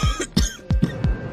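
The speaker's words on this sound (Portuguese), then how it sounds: "ele acorda tossindo sangue." A man coughs hard several times in quick succession, five sharp, harsh bursts close up, with no other sound around them.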